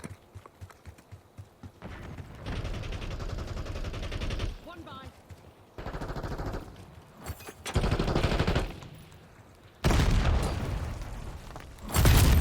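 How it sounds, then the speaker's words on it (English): Grenade blasts and gunfire in Call of Duty Black Ops 6 multiplayer, several loud booming bursts and rapid shots separated by short gaps, with a voice talking in between. "Another grenade. This guy throw grenades everywhere."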